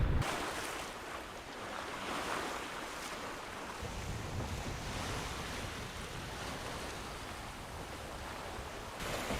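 Steady rushing wind with low buffeting on a sailboat in the trade winds behind reefs off Panama, constant and fairly loud with faint water wash beneath and no voices.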